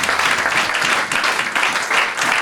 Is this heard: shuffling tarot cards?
no